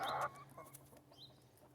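A rooster in a chicken coop lets out a loud cluck at the start, then a few softer clucks and peeps over a steady low background hum.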